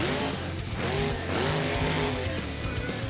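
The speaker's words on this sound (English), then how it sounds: "Now he's going to sling it into some more donuts." Monster truck spinning donuts in BeamNG.drive, with a continuous roaring engine note, wavering pitch and tires squealing and skidding throughout, loud and close, without talk.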